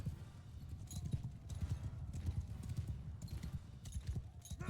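Horse hooves in the video game Mount & Blade 2 Bannerlord, a fast, continuous clip-clop gallop with rapid rhythmic thuds, fairly close and loud throughout, with battle ambience behind and no clear talk.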